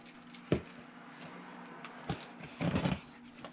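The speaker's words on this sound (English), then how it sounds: "Here, use the Honda keys." Honda car keys jangle in a few separate bursts, one brief near the start, a short one in the middle and a longer rattling cluster near the end, close by with no talk.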